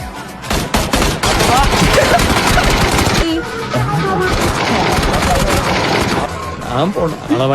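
Rapid bursts of video game gunfire rattle loudly in quick succession, broken by a short pause, with game sound effects mixed in.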